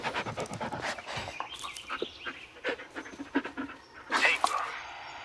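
A dog pants in quick rhythmic breaths in a video game, with some whimpers and game noise mixed in, at moderate loudness throughout.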